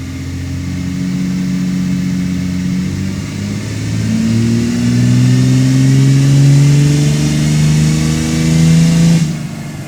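A diesel truck engine on a dyno during a tuning pull revs steadily upward, its tone climbing in smooth sweeping harmonics for several seconds before cutting off abruptly near the end, loud and close.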